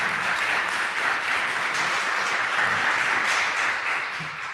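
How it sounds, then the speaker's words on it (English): An audience gives a round of applause after a talk on day trading, with dense, sustained clapping from a full room that stays strong for several seconds before tapering off at the end. "let's give Dylan a round of applause."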